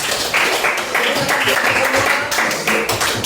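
An indoor audience at a school supervision and coaching session claps steadily for about three seconds, a dense and fairly loud burst of applause that continues without a break.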